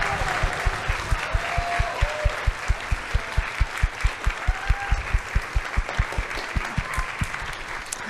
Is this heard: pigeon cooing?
no